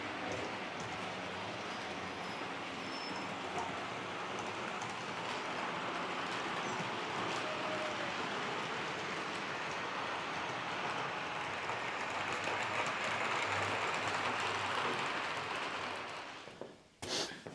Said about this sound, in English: Somebody suggested running 2 trains with cars.